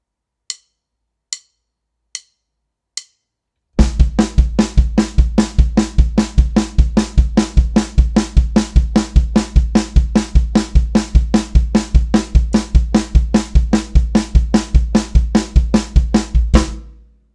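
Four sharp count-in clicks, then a full drum kit pattern with the kick displaced to sixteenth-note upbeats, a dense, loud, driving groove of steady cymbal strokes and punchy low thumps, played close with no talking.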